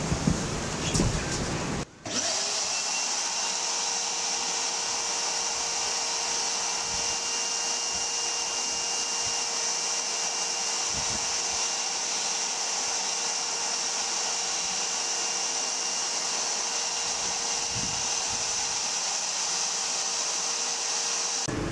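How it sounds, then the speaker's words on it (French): A workshop dust extractor vacuum on a Parkside woodworking combination machine switches on after a brief pause and runs alone with a steady, loud whine and rushing roar that holds constant. "je te refais un test en allumant simplement l'aspirateur et non la machine"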